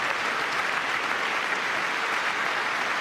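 Audience applause at a televised State of the Union address, a steady dense wash of clapping that holds at an even level throughout with no talk over it.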